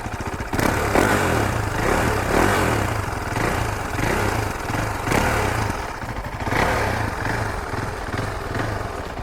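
A 2017 KTM 390 Duke motorcycle engine runs steadily close by, with a low throbbing idle and a few rising revs, loud and continuous with no talking.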